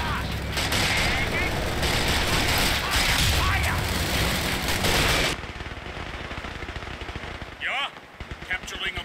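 Machine gun crew firing in Company of Heroes 2: dense, sustained rapid bursts of automatic gunfire with booming explosions for about five seconds, then quieter scattered shots and battlefield noise with game voices speaking.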